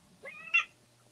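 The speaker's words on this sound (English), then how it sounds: "He just twisted the cat's tail or" A cat gives a short meow, a rising then falling cry that is brief and moderately close, with faint background noise and no talking.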